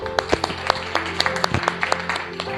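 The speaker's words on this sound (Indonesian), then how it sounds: "kita beri aplaus dulu" Scattered, uneven clapping from a small group of students in a classroom after classmates ask questions, with a low steady hum underneath and no talking.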